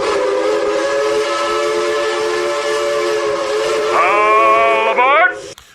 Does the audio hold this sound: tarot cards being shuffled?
no